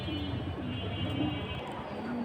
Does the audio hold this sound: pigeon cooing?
yes